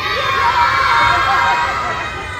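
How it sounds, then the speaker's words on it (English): A crowd of children shouts out together in one loud, sustained burst of massed voices that holds steady for a couple of seconds before easing slightly. "the lad cleared his throat and shouted out"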